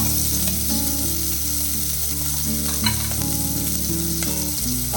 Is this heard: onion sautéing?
yes